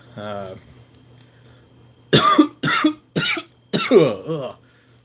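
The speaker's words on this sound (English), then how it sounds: "Coughing and carrying on and all that stuff" Four harsh coughs in quick succession, close and loud, after a brief hum of a voice at the start.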